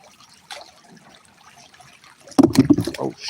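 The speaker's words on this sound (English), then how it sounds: "Oh shit, my vape just fell in the water." Small vape dropping into a shallow stream at a gold panning spot, a brief splash and burst of trickling water after quiet flowing-stream ambience.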